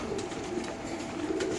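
Several desi pigeons cooing together in a coop, a low continuous murmur of overlapping coos, faint and steady with no talk.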